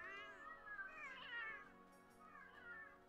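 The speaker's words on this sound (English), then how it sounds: "they must have used some real cat sounds" A few soft, faint cat meows from the Monster Hunter World video game, a drawn-out mew followed by a shorter one, heard alone without talk.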